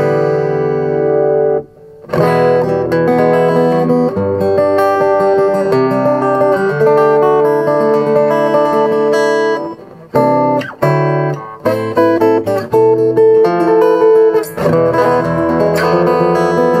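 Acoustic instrument amplified through a LiREVO A30 acoustic amp with a midrange setting, playing loud, continuous strummed and picked passages with a few short pauses.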